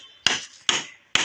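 Three sharp hammer blows ring out at an even pace, close and crisp, as a chicken coop for breeding chickens is built in the countryside.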